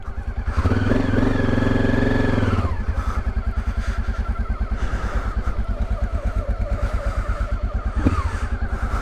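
A rebuilt Honda XRV750 Africa Twin motorcycle rides along, its engine revving up then settling into a steady thumping drone under wind, close and loud throughout, with a brief clunk near the end.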